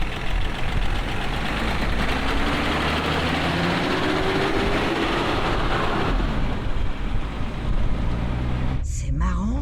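A BMW 524td diesel engine runs steadily at idle, a loud continuous rumble with a faint rising whine, ending in a brief clunk as it cuts out.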